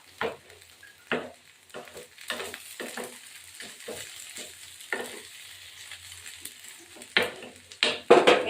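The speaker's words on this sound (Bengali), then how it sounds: "এই ডুমুরটাকে একটু ভাজা ভাজা করবে" Soft sizzling in a pan as mashed figs with turmeric fry, broken up by scraping strokes of a spatula stirring at an uneven pace, close and moderately quiet.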